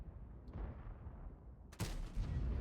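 A tank cannon fires in a World of Tanks-style game battle on the Berlin map: a faint early pop, then one sharp, loud blast that rolls on into a rumbling tail over steady low battle noise.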